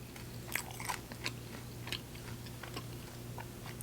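Quiet, close chewing and biting on Buffalo Wild Wings chicken wings, with soft wet crunches and smacks scattered irregularly over a low steady hum.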